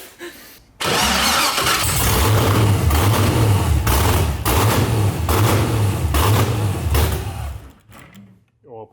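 An LS V8 swapped into a Mazda Miata cranks and fires up, then runs loud and rough with a deep rumble and repeated throttle revs close by, people talking over it, before it cuts off.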